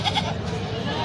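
A sheep bleats a couple of times at a busy livestock market selling goats and sheep, the short calls rising over a constant crowd murmur.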